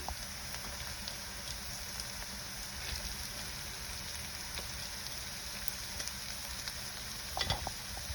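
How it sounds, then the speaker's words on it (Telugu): Mutton spleen frying and being stirred in a pan: a steady, close sizzle runs throughout with soft scraping of stirring, plus a brief louder clatter near the end. "ఇది మనం పచ్చివాసన పోయే వరకు ఫ్రై చేసుకుందాము"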